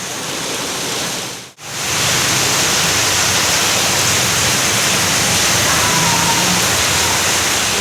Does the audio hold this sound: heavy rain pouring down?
yes